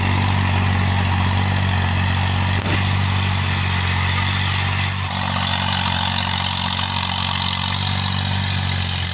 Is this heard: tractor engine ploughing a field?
yes